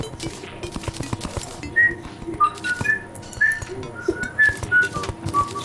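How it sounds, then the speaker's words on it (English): A person whistles a series of short, clear, wavering notes in a bouncy rhythm, close and fairly loud, over a busy low background of clicks and hum. "No whistling!"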